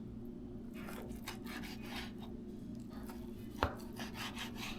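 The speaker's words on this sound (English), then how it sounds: "And now we're going to cut them into cubes." A knife slices strips of beef sirloin into roughly one-inch cubes on a board, making a series of quiet, irregular cutting strokes with one sharper knock partway through.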